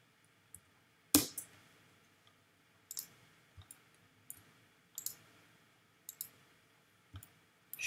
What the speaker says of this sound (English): move the mouse in, and click and drag